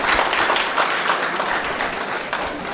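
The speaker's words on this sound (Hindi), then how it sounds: "जोरदार तालियों से स्वागत किया जाए।" Loud, dense applause from a crowd at a community awards ceremony, continuous and steady throughout without any break.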